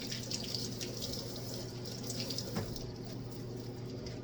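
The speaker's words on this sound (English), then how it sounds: "Give them a good rinse." Sweet peppers are rinsed under a kitchen tap, giving a quiet, steady stream of running water with a brief splash near the end and no voices.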